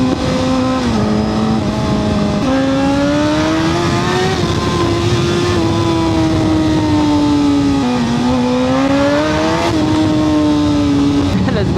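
A Suzuki GSX-R 1000 sportbike engine revs loudly up close, its tone rising and falling through sustained throttle blips, with faint voices in the background.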